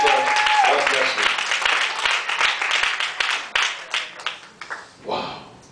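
Church congregation clapping their hands in praise, a dense burst of applause that gradually thins into scattered claps and fades, with voices mixed in.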